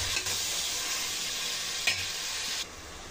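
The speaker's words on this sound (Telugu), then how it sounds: "ఈ టమాటాలని ఒకసారి కలుపుకొని బాగా మగ్గేంత వరకు కుక్ చేసుకోవాలండి." Tomatoes and onions cooking in a pan for chicken biryani, stirred steadily over a continuous loud sizzle, with a sharper scrape of the spoon partway through and no talking.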